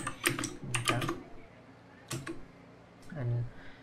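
Keys clack on a computer keyboard as a git add command is typed, a few quick bursts of taps separated by pauses, fairly close and moderately loud with no talk over them.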